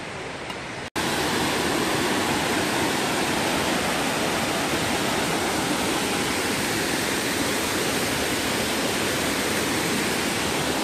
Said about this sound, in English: a lot of these waterfalls that I'm filming aren't even the marked waterfalls